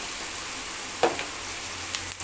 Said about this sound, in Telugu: వెల్లుల్లి కూడా యాడ్ చేసిన తర్వాత పచ్చివాసన లేకుండా బాగా వేయించుకోవాలి